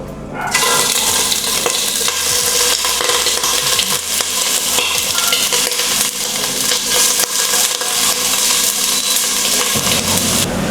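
Chicken pieces sizzling loudly in ghee in a pot for arroz caldo, a dense continuous frying hiss with occasional stirring scrapes, close and with no talk.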